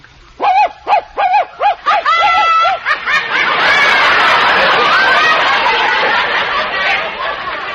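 A voice imitates a dog with a quick series of sharp, yelping barks, then breaks into wild, hysterical laughter and shrieks.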